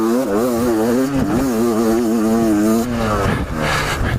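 An enduro motorcycle riding onto a muddy motocross track during a British Sprint Enduro Championship round, its engine loud and close, revving up and down through the gears as it climbs in pitch.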